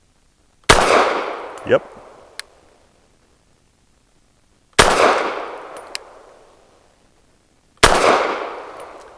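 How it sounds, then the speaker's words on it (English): A Walther PDP F Pro handgun fires without a suppressor outdoors: three sharp, loud single shots spaced several seconds apart, each with a short ringing decay, and a brief spoken word between them. "It's also silly fun to shoot in a regular handgun without a suppressor"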